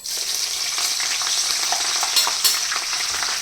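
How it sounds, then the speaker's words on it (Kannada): Green chillies sizzle and crackle as they roast in a hot pan for green mandakki, a steady close frying hiss with occasional sharper pops and stirring, no voices. "ಎಲ್ಲ ಚೆನ್ನಾಗಿ ರೋಸ್ಟ್ ಆಗಬೇಕು. ಯಾವುದೋ ಹಸಿ ಇರಬಾರ್ದು."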